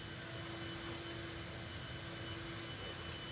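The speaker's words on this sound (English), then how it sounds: "My mom is outside vacuuming." A vacuum cleaner running outdoors at a distance, a faint steady drone with a constant tonal hum, unbroken and without voices.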